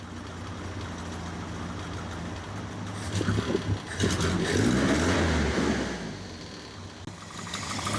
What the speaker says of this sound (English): Give it a rev for you.